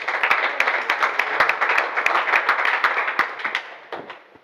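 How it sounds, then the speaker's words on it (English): An audience at a school program applauds, with many hands clapping in a dense, steady burst that fades toward the end. "Clap hands for her."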